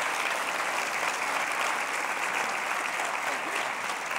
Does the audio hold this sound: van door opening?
no